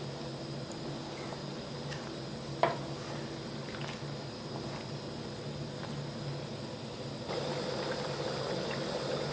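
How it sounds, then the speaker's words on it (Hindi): Mango pickle boiling in a pot, a steady low bubbling and simmering hiss that carries on evenly, with one sharp clink partway through and the sound swelling slightly louder near the end. "आप देख सकते हैं उबाल आना शुरू हो गया है।"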